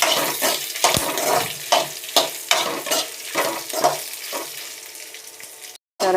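Dried red chillies, coriander seeds and cumin fry in hot oil, giving a steady close sizzle broken by repeated stirring scrapes and brief bursts, with a short silent break near the end.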